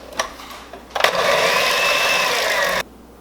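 A handheld electric mixer whirs steadily for about two seconds, beating sweet potato pie filling with coconut oil, after a couple of brief clicks. The motor drone is close and loud, with no talking.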